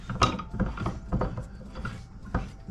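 Small metallic clicks and rattling taps as an upgrade attachment is screwed into a Moxin woodworking vise, heard close up in short irregular bursts.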